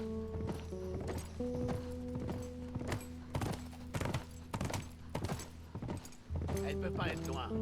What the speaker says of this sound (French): Tu te balades à cheval.